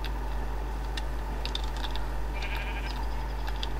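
Soft, thin sheep bleats from the Tekkit Minecraft modpack, a few short distant cries scattered over a steady low game hum and faint clicking, with no talk.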